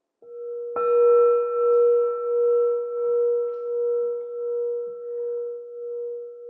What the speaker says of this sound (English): We ring the gong 3 times.